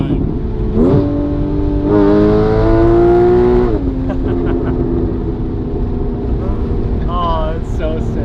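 Rebuilt Porsche Cayman GTS engine revving up through gears with rising tones, then settling into a steady drone of road noise, with speech heard over it.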